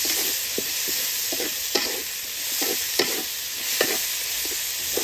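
Tomatoes frying in a pan with onions, stirred in steady repeated scrapes over a constant close sizzle, in an Odia home-style kitchen.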